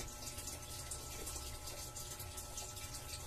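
A tap pours a strong, steady stream of water, a continuous hiss and splash heard faintly and evenly throughout with no voices.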